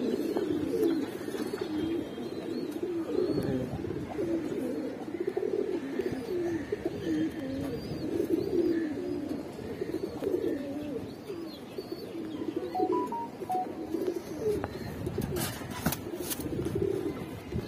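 Giribaz pigeons coo steadily in a loft collection, several birds overlapping in low repeated coos with occasional chirps and faint background noise, close and continuous.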